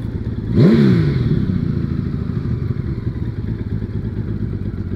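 A Honda Valkyrie motorcycle engine, just after an oil change, blips in one quick rev that rises and falls within a second, then settles back into a steady idle rumble.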